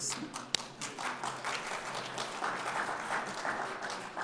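Audience applause for two workshop facilitators at a workshop just before lunch: a steady wash of many hands clapping at moderate level, with one sharp louder clap near the start, no voices over it.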